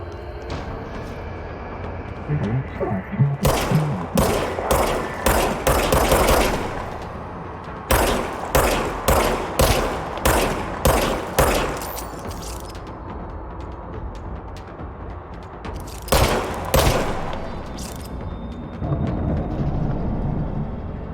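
Gunfire in the video game Control: bursts of rapid sharp shots in quick strings, loud and close, separated by short pauses, with mechanical clanks and rumbling between volleys.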